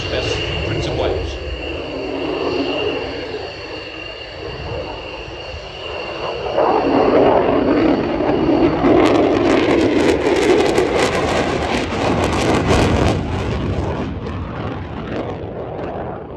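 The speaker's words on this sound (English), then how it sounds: "The Royal Air Force and Royal Navy operates the F-35B variant, which has a short takeoff and landing capability" An F-35B fighter jet roars during an aerial display at the RIAT airshow at RAF Fairford, England, its engine noise swelling into a loud rushing blast midway and fading, heard under commentary.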